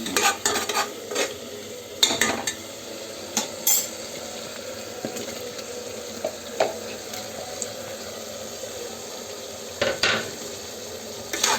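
Tomatoes frying in a pan for veg pulao while being stirred, a soft background sizzle broken by sharp scrapes and clinks of a spoon against the pan at irregular intervals, close and without talk.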